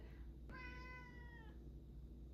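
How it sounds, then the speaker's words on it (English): A pet cat gives one clear, fairly loud meow lasting about a second, close by, over a low steady hum. "This is my cat Louie"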